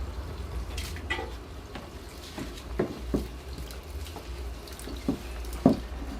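Water runs steadily with irregular gurgling bursts and sputters as trapped air spits out of a pipe, a few louder pops standing out.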